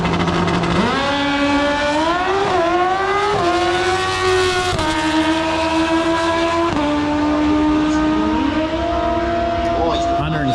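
A modified drag racing motorcycle launches and screams down a quarter-mile strip, its loud engine climbing in pitch through several sharp gear changes over about ten seconds, with crowd and announcer noise underneath.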